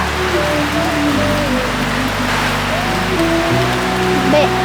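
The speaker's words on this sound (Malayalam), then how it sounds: "ബേബി ഈ മഴ പെയ്തത് ഒരു നല്ല ലക്ഷണാ" Steady rain pours down in a continuous hiss, with a low engine-like hum and faint voices underneath.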